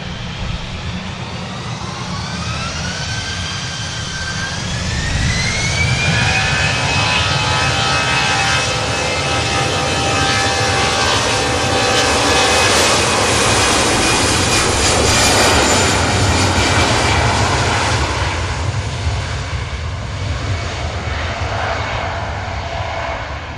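EasyJet airliner jet engines spool up for takeoff, a loud sustained roar with rising whining tones that swell and broaden into a powerful steady rumble, heard alone without talk.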